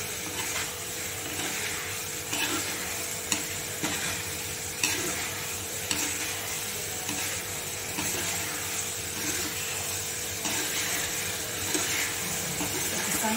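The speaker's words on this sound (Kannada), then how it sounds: "ಇದಕ್ಕೆ ಈ ಮೊಟ್ಟೆ ಹಾಕಿ, ಮೊಟ್ಟೆ ಹಾಕಿ ಚಂದ ಮಿಕ್ಸ್ ಮಾಡ್ಕೊಡ್ಬೇಕು." Egg masala cooks in a pan as eggs are mixed in, giving a continuous low sizzle with soft, regular scraping from stirring, fairly quiet and without speech.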